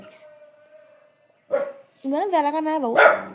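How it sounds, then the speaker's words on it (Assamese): A dog barks a few times at a passer-by, the barks mixed with and partly under a person talking nearby. "অ' কুকুৰটোও ভুকিছে মোক দেখি"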